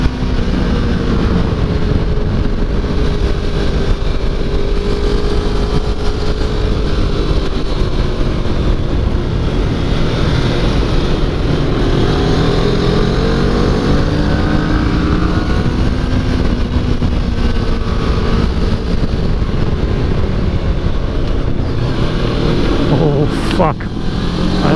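A motorcycle roars at speed around the New Hampshire Motor Speedway track day circuit, its engine loud and continuous with pitch rising and falling through shifts and turns, heavy wind rush throughout.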